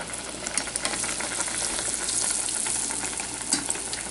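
Native fry bread dough fries in hot oil, a steady, fairly quiet crackling sizzle with small pops and light stirring scrapes, continuous with no talking.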